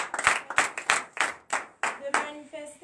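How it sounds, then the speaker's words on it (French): Congregation at a Beninese morning prayer service clapping in acclamation, a series of about ten sharp, uneven bursts of hand claps from a crowd, with a sustained sung or shouted vocal tone rising near the end. "Donnez de l'acclamation à Jésus."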